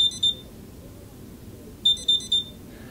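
A speeding alert from an Automatic Link connected-car device, triggered when the car goes over a preset 70 mph limit. Two short bursts of shrill electronic beeps sound clearly over a quiet background.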